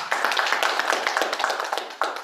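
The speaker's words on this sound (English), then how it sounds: "he deserves a special round of applause" Audience applause fills a club hall at a celebration event, dense overlapping hand claps sustained steadily and loudly throughout.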